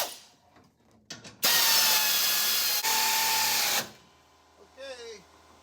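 A power tool tightens the cross brace bolts during a fuel cell installation in a Richard Petty car, giving a loud, close burst of whirring lasting a couple of seconds between quieter shop handling noises.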